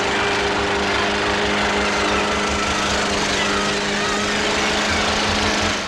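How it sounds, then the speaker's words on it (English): A lawn mower engine drones loudly and steadily nearby, a constant buzzing roar with no pauses. "is saved by coming back with the lawnmower"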